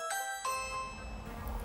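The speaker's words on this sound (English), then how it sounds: "It's cold, and the door chimes are giving Sal a headache" Bakery door chimes ring as the door opens, two bright metallic strikes in quick succession, with the tones sustaining and fading over a low room rumble.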